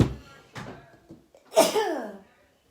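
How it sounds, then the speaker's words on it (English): A single loud sneeze bursts out after some faint, low murmuring, with a short trailing exhale. "I think I have to sneeze."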